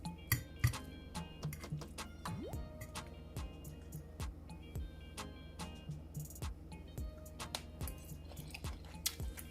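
Someone chews and bites into a home-cooked plate of Jamaican corned beef and cabbage with rice, close and moist, with irregular soft crunching and faint clicks of cutlery against a dish.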